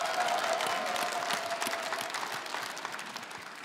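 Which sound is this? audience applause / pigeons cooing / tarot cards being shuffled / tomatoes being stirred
audience applause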